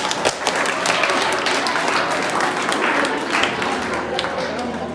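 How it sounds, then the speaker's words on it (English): A school audience at a science quiz claps loudly and steadily, a close, dense patter of many hands that holds for several seconds before easing slightly. "Clap for it."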